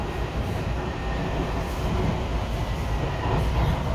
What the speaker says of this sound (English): So this train is going as far as Miami International Airport